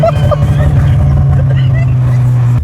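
A standard 1.2-litre car being driven past houses, its engine droning steadily and loud close by with echo off nearby walls, a few sharp exhaust pops early on, and a voice talking over it.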